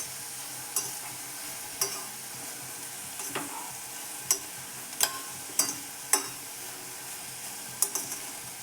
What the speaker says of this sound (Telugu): 2 కప్స్ నెయ్యి వేసుకొని 2 కప్స్ క్యారెట్ తురుము వేసుకోవాలి.